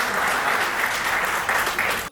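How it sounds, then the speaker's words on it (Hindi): A crowd at a Holi public gathering claps together in loud, dense applause that holds steady for about two seconds, then cuts off abruptly. "आपकी तालियां एक बार हाथ उठा के बजाएं तो मैं उनको बुलाऊं।"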